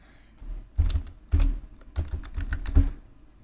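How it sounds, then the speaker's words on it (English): Close, fairly loud keystrokes on a computer keyboard as a short command is typed, a handful of thumping clicks in an uneven rhythm with no voice over them. "So I'm going to type cd"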